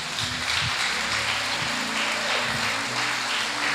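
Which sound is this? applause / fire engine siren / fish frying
applause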